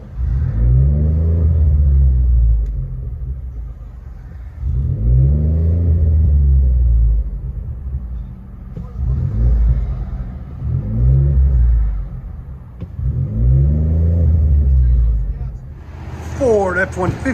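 A 2013 Ford F-150 with a 3.5L EcoBoost V6 and Vibrant bottle resonator revs in neutral, giving four or five loud, rumbling throttle blips separated by brief dips in idle.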